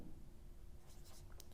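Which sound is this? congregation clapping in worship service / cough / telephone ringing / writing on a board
writing on a board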